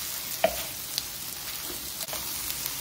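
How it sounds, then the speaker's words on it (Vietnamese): Onion and seafood stir-frying in a pan, a soft steady sizzle with a few faint clinks of a utensil against the pan, no voices. "Củ hành vô Lan xào trước cho nó thơm nha."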